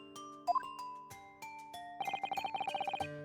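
A glass bell rings in The Great Ace Attorney Chronicles aboard a ship, giving bright chiming tones that rise briefly, then settle into a quick run of repeated high dings near the end.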